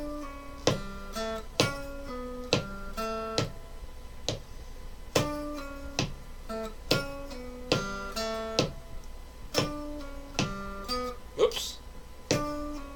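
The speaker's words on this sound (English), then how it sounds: "So with the metronome, it would sound like this." Guitar pull-offs picked out as short plucked notes in a steady rhythm alongside a metronome's clicking beat, close and clear over about thirteen seconds.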